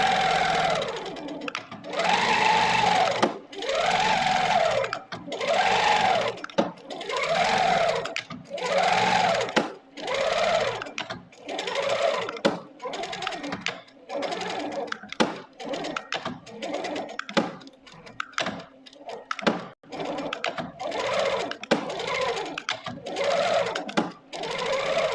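A quilting sewing machine stitches in cruise mode, running in repeated bursts of rapid whirring with rising and falling pitch, separated by brief stops, close and steady throughout.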